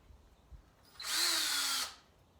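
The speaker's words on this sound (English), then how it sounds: "So now I'm going to do another screw hole." A power drill whirs for about a second as it bores a screw hole into wood, a single steady burst that starts and stops sharply, close by in a quiet room.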